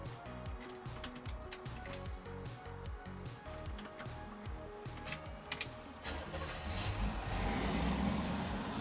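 A 1964 Chevrolet Impala SS engine turns over and catches, then settles into a low, steady rumbling idle that grows slightly fuller toward the end.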